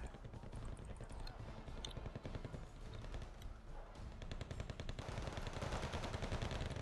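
Dense, continuous small-arms gunfire from Canadian rifle infantry in the real-time strategy game Wargame: Red Dragon, rapid overlapping shots and bursts layered over a constant roar of battle, loud and steady throughout with no pauses.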